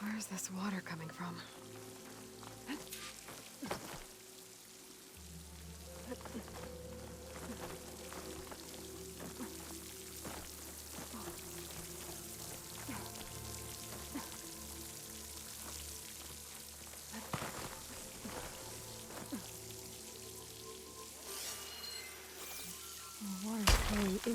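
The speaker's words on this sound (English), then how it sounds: "The water's flowing into the wall." Water pouring and splashing steadily into a rock wall in the video game Horizon Forbidden West, a continuous trickling rush under a low ambient hum, faint and close.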